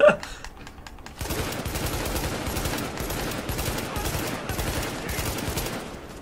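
Rapid automatic gunfire from The Division video game, sustained bursts of loud shooting that run almost unbroken for several seconds after a brief quieter opening.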